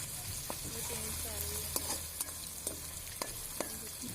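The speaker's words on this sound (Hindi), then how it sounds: "अभी हम इसको हल्का हल्का फ्राई करते रहेंगे, चम्मच को हिलाते रहेंगे ताकि मसाला नीचे ना लगे" Masala gently frying in a pan while being stirred with a spoon, a continuous soft sizzle with scattered light clicks and scrapes of the spoon, moderately close and fairly quiet.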